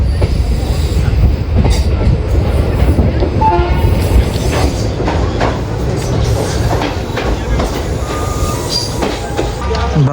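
Ajmer Superfast Express, running from Agra Fort to Ajmer, rumbles past loud and close with a steady roar of wheels and wagons, metallic squeals and rattling throughout.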